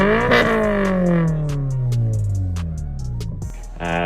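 A Subaru BRZ with a loud aftermarket exhaust revs up sharply, then the engine note falls away in a long, smooth descending drone before a brief blip at the end, close and loud with no voices.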